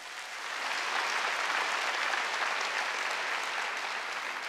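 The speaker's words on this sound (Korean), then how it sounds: "깨달은 사람만 박수 쳐라." A church congregation claps together in a broad, steady wash of applause that swells in and holds evenly, moderately distant and without speech.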